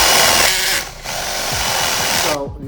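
A power drill with a large hole-cutting bit bores through wood, its steady whirring grind loud and close, briefly easing off once before resuming and cutting out near the end.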